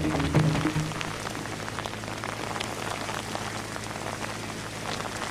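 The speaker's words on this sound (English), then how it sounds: "this rain really started picking up literally seconds ago" Heavy rain pours down steadily in Walker County, Alabama, during an evening storm, a dense, continuous hiss of drops hitting surfaces, loud and close from start to finish, with no voices.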